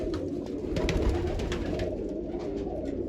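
Soft, low pigeon cooing repeats in gentle rolling phrases close by, over a quiet background murmur.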